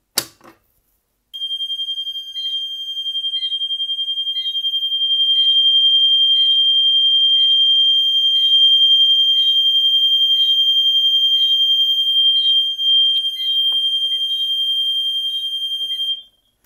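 A Gentex Mini-Sounder fire alarm sounds during a fire alarm system test, a loud, steady high-pitched electronic tone with a faint repeating pulse beneath it, holding continuously until it cuts off near the end.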